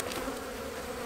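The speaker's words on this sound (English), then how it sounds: "these may be bees that are robbing from this one for the other hives" Bees robbing a hive make a dense, steady buzz, a close and continuous droning hum with no pauses.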